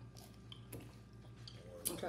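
Close, moist chewing of crunchy pulled chicken tacos, with steady mouth sounds and a few sharper crunchy bites, heard alone with no talking.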